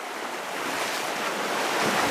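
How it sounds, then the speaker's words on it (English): River water rushing and roaring down a narrow run where a wide stream funnels in, a steady broadband wash that swells slightly louder toward the end, with no voices. "it's coming from a wide area up further, and it just roars into this water here"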